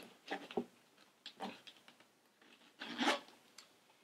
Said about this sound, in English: closure on top, and then basically a full-length zipper.